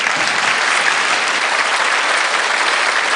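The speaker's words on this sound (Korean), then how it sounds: "이렇게 치고 박수 한번." An audience at a Korean lecture-stage show claps in sustained, even applause, loud and close, with no speech over it.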